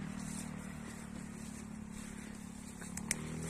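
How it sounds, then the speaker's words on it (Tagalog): Motorcycle engines hum along a cemented provincial road in Doña Remedios Trinidad, Bulacan, a faint, steady, distant drone that stays even throughout, with one brief click near the end. "Naririnig naman po natin ang mga ugong ng motor."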